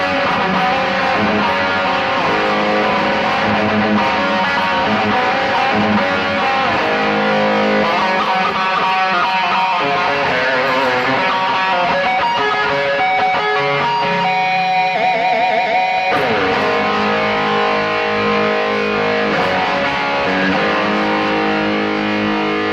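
Distorted electric guitar played through a BOSS eBAND JS-10 with reverb set to 80, ringing continuously at steady volume with a brief thinner passage midway.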